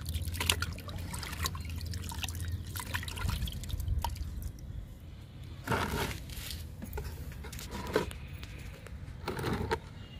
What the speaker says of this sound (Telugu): ఇది కిచెన్ వేస్ట్ లిక్విడ్ అండి